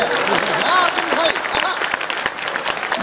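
An audience at a Hindi comedy poetry show breaks into loud, sustained applause, with dense clapping from a crowd filling the room throughout.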